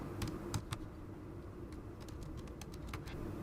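A short web link being typed on a computer keyboard: quiet, scattered key clicks in small clusters over a steady low background hum, fairly faint.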